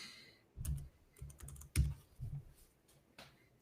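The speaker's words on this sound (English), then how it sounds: "this small keyboard is so hard to type on" Fingers tapping on a small computer keyboard, several short bursts of clicky keystrokes with brief pauses, close and fairly quiet with no voices.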